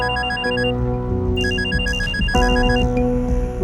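A telephone rings in a repeating electronic ringtone pattern, loud and steady and close by, with several ring bursts over a few seconds and music-like tones beneath, on an office set in a Hindi comedy show.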